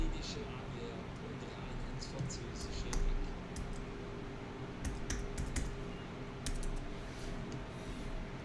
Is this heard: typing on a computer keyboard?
yes